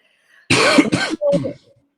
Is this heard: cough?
yes